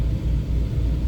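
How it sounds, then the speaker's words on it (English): A high-mileage Audi TT idles with its engine left running at a fuel pump, giving a steady low rumble close by with no voices over it. "leave the engine running while you fuel"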